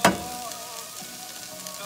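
Onions and garlic fry in a pan, opening with a sharp sizzling burst as the garlic goes in, then settling into a steady close crackle.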